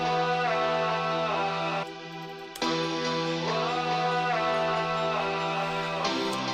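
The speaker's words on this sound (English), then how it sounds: "And then you just add the piano" Piano layered into an electronic dance track during a production breakdown, sustained chords over a steady bed of synths and bass, with a brief dropout near two seconds before the full mix returns.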